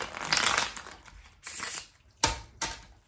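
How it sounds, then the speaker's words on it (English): Papery riffling bursts of cards being shuffled, a long flurry followed by two shorter sharp riffles, close and fairly quiet. "we'll shuffle those out and then we'll get another deck and shuffle those out"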